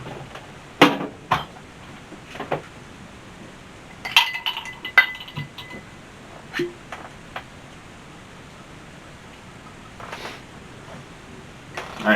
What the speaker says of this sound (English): Alright, so we got an ice cube in it.